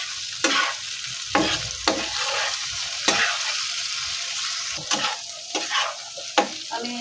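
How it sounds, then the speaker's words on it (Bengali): Fish and spices stir-fried in hot oil crackle and sizzle close by, while a spatula scrapes the pan in repeated strokes over about seven seconds. "মাছের মশলা একই সাথে কষাবো"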